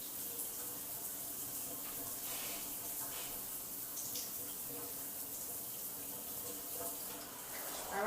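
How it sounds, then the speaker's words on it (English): Steady running water from a tap while conditioner is rinsed out of hair, a constant close hiss of flow that continues for the whole stretch without a break. "now I'm going to wash this conditioner out"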